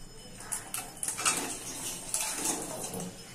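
Pasta being stirred in a pan over low gas, with a run of light scraping and clinking from the utensil, moderately close with no talk.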